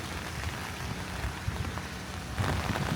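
Steady rain patters outdoors on a North Carolina day, soft and moderately distant, swelling a little louder near the end.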